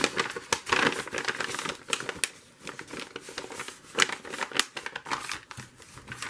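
Someone cuts the bottom part off a bag, producing a steady, close crinkling and snipping texture with irregular sharp ticks, fairly quiet and with no talking.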